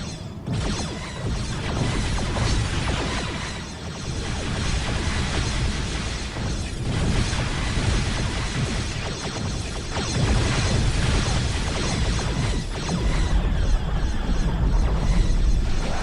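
Starship weapons fire pound a shipyard in a Star Trek Continuum space battle, a dense and continuous wash of booming explosions and crashes that builds in loudness toward the end.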